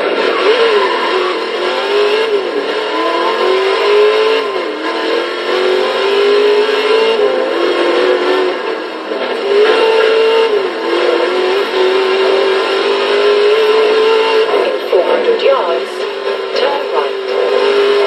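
A 1972 Chrysler VH Valiant Charger R/T E49 in Forza Horizon 3 revs hard and steadily, its loud engine note rising and falling continuously, with a voice faintly audible beneath it.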